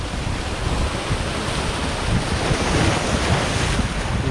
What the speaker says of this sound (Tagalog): Mahangin kasi dito mga master.